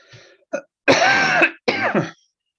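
A person coughs and clears their throat in several loud, harsh bursts close up, with short pauses between them.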